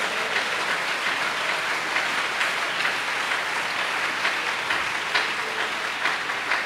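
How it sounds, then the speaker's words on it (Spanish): Church congregation applauding during a Spanish-language sermon, a steady wash of many hands clapping together, sustained and fairly loud, with no talk over it. "Dele ese aplauso al Señor Jesús."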